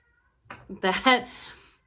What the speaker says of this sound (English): Freya trying to meow with a toy in her mouth